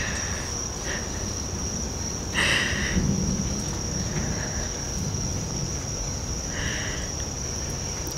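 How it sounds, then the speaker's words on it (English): Crickets chirp steadily in a high continuous trill during rainy weather, with louder pulsed bursts from nearby insects over a low outdoor background rumble. "the crickets are so loud right now"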